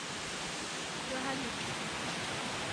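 Steady broadband rush of a river flowing at night beside a campsite on Fraser Hill, an even, continuous wash of water with no clear pauses, moderately close and unbroken for the whole stretch.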